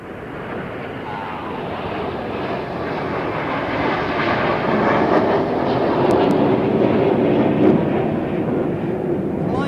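A Red Arrows Hawk jet flies a display at the 2014 Eastbourne International Airshow on the coast, a loud, continuous broadband roar that swells slightly and holds steady throughout.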